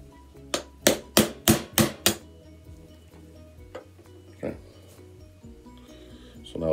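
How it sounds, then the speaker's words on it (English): Six sharp metallic taps in quick succession as a small hammer drives a 1/8 punch to knock a pin out of an SKS bolt held in a holder, followed by quieter handling clatter. "my little hammer, and knock that pin out"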